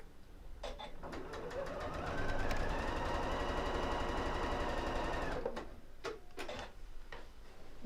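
Sewing machine stitching fabric, a steady fast mechanical whirr with rapid ticking that speeds up and runs for several seconds, then stops, leaving a few faint clicks and taps.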